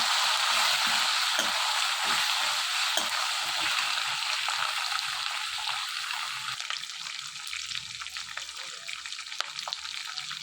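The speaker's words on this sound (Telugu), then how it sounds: "వేసుకుని ఇవన్నీ కూడా బాగా వేయించుకోవాలి." Curry leaves and spices frying in hot oil for pulihora, a steady close hiss and sizzle with light stirring clicks throughout, easing slightly toward the end.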